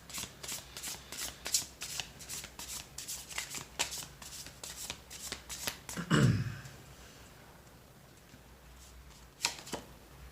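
Tarot cards are shuffled by hand in quick, close riffling bursts, then a louder clack as the deck is squared, followed by quiet and a last brief shuffle.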